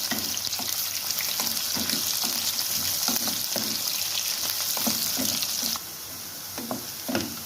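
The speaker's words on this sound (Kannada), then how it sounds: "ಈರುಳ್ಳಿ ಚೆನ್ನಾಗಿ ಫ್ರೈ ಆಗಿದೆ" Onions fry in a pan with dried curry leaves, a dense, steady sizzle with periodic soft scrapes of stirring, close and continuous, easing slightly near the end.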